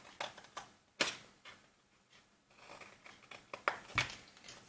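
Scissors snip paper squares into triangles for a floral table centrepiece, giving a handful of sharp, irregular clicks and crisp cuts close by with quiet pauses between them.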